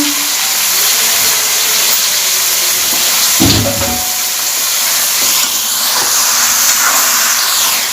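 Eggplant added to a hot pan for an aloo baigan bhujia sizzles with a loud, steady hiss, joined briefly by a clatter of stirring midway.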